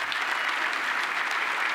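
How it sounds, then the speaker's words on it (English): Steady applause from an audience at a gala evening honoring survivors, dense continuous clapping filling the whole moment without pause or voices. "Y'all give a hand clap for them."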